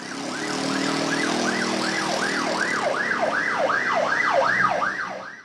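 City street traffic with a wailing emergency siren cycling up and down steadily and loudly throughout, over a constant rumble of road noise.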